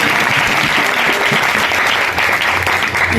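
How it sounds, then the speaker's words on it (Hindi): A church congregation breaks into loud, sustained applause, a dense wash of many hands clapping together, close and steady throughout with no pause. "खुदा यीशु के जलाल के लिए जोरदार ताली बजा दीजिएगा।"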